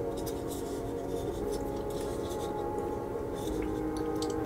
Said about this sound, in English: So I need to trim this down.